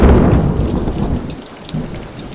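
Heavy rain pours with a deep rumble of thunder rolling underneath, loud and close, with no voices.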